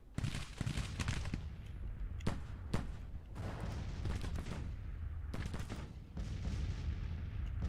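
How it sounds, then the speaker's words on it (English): Artillery fire in the Grand Tactician strategy game: repeated booming blasts and sharp reports over a continuous low rumble of battle, dense and steady throughout with no talk. "Preston's taking artillery fire now."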